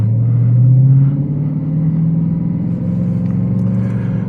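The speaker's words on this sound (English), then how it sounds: "Not only does it have a great sounding exhaust, that supercharger whine is addicting, and yeah, it sounds really good." Dodge Charger Hellcat Widebody accelerating with a rising supercharger whine over a deep, throaty exhaust rumble, loud and close, the engine note climbing then holding steady with no talking.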